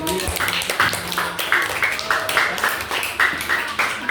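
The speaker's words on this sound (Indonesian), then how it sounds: "Oke, tepuk tangan." Group of people clapping in a classroom-style gathering, a short burst of uneven rhythmic claps heard close with voices talking over it.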